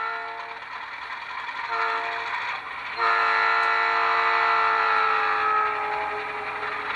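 Doppler horn effect from a Rapido HO scale RS-11 model diesel locomotive with an ESU LokSound decoder, a sustained multi-tone horn blast that swells louder midway and holds steady over engine rumble, close and alone without talk.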